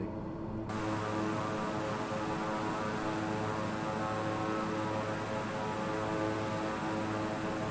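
In a flight simulator game, an aircraft engine drones steadily on approach with the landing gear down and the flaps set, giving a loud, continuous tonal hum that starts abruptly and holds unchanged for about seven seconds.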